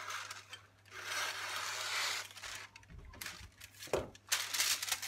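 Soft, close scraping and rustling as a sheet of parchment baking paper is cut to line a brownie pan, with a few sharper crinkles and taps near the end.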